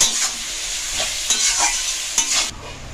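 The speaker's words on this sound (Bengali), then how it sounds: "লাল লাল করে ভেজে নেব।" Steady sizzling of onions in a pan, broken by a few scraping stirs of a spatula, then the frying noise drops away near the end.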